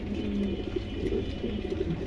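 A pair of yellow Pomeranian pigeons coo in low, soft murmurs, a few short calls close by over a steady background hum, with no talk.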